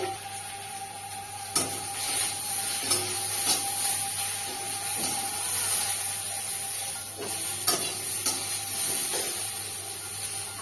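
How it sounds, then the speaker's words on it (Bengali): Potatoes with tomatoes and slit green chillies frying in oil in a pan, a continuous sizzle and hiss with occasional scraping stirs of a spatula, close and steady with no talking. "এবার আলুটা ভাজতে থাকি"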